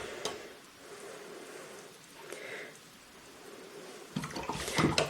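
Water brushed and flowed over Hahnemühle watercolour paper to wash excess paint off a floral painting, a soft wet trickling and splashing that swells into a louder, busier wash near the end.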